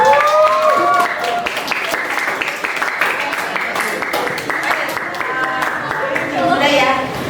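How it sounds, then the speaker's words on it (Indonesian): A classroom group applauds together in a dense, steady burst of clapping lasting several seconds, loud and close, with voices mixed in at the start and end. "Kita kasih tepuk sekali lagi."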